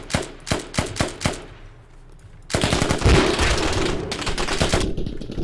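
Automatic rifle fire in the tactical shooter Squad: a quick string of close, sharp bursts, a brief lull, then a dense, sustained roar of heavy overlapping gunfire with booming impacts.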